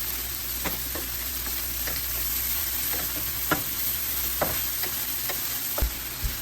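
Peas and carrots go into a hot pan for a chicken casserole, sizzling and frying steadily while a utensil stirs with scattered soft scrapes and taps, close and moderately loud.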